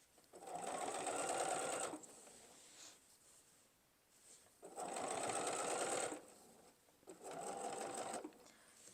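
A sewing machine stitches down a quilt binding in three close, steady runs of rapid whirring with brief quiet gaps between them.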